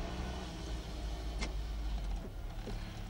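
An older car drives along with a low, steady engine rumble heard from inside the cabin, and a brief squeak cuts in partway through.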